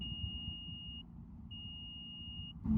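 Two consecutive beeps from a Nissan power liftgate, each a long steady electronic tone about a second long with a short gap between, clear over a low vehicle hum.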